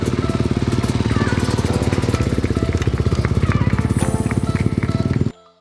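A loud, rapid engine roar with a steady pulsing beat, a Honda enduro motorcycle revving hard close by at the Enduro GP of Portugal, cutting off abruptly at the end.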